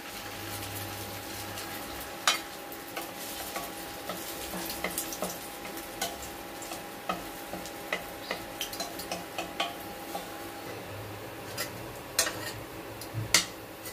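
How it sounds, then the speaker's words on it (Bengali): Cottage cheese balls fry in hot oil, a low steady bubbling sizzle punctuated by frequent small pops and clicks, with occasional utensil taps, no voices. "ছানার বলগুলোকে আমি অল্প করে ভেজে নিচ্ছি, বেশি কিন্তু ভাজবো না।"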